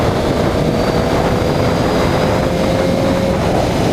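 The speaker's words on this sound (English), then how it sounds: "that's 6th gear, and there is still plenty of power in the bike left to deliver" A restricted 2015 Yamaha XJ6 SP 600cc motorcycle pulls hard in sixth gear, a steady, loud engine drone blended with heavy wind roar, a faint rising tone underneath.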